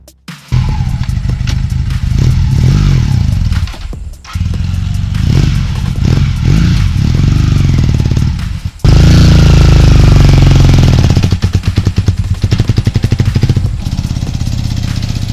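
A 1986 Honda 450 motorcycle engine runs close and loud, rough and clattering, cutting out briefly near four seconds, then revving harder at about nine seconds into a sustained, heavier roar that lasts to the end.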